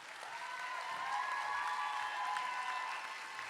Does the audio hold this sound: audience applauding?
yes